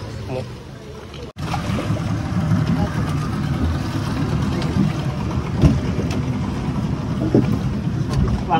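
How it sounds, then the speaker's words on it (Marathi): Private boat arriving at Tsunami Island near Devbag, Malvan, on the Konkan coast, its engine running: a steady, fairly loud low motor drone with wind buffeting the microphone after a brief dropout. "प्रायव्हेट बोट. बोट आली आमची आता."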